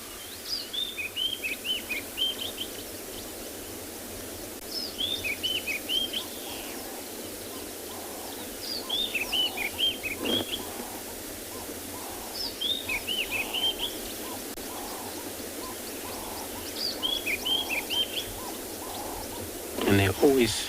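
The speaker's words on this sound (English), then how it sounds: "The bird that is calling, actually not that Tswalu eagle. It was a sabotalok type of small bird." A small bird repeats a short chirping phrase every few seconds at a sunrise safari in Tswalu, clear but moderately distant over a steady outdoor hum.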